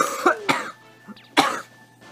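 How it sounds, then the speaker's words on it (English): Three sharp coughs from a person who is still sick, close and loud, spaced apart with a short throat-clearing sound between them, no talking. "you can see that I kind of coughed just a bit"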